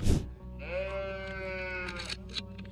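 A sheep in an enclosure bleats once in a long, wavering call, fairly close and clear, with a brief knock just before it and a few faint rustles after.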